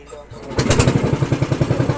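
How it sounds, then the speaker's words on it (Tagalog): Boat motor on the Agusan River, a steady rhythmic engine chugging that starts after a quiet moment and pulses loud and close, with a voice talking over it. "May mga motor dira."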